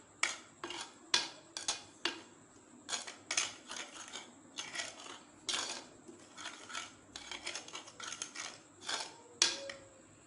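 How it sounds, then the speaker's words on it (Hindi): Spice masala for fish pakora being mixed in a bowl, a series of close, sharp clinks and scrapes of a spoon against the bowl in an irregular rhythm, with no talking. "अभी इसको मिक्स कर लेते हैं। अच्छे तरीके से मिक्स करना है।"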